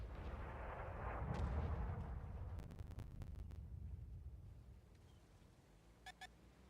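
Rumbling artillery fire in the tank battle game World of Tanks, with deep booms swelling and fading across the scene, a few crackling hits in the middle, and two short sharp impacts near the end, all fairly distant and low.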